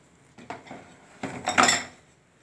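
Potatoes and onions being mixed in a large bowl for Multani desi pakoras: a few soft clattering and scraping bursts, growing louder toward the end, with no talk.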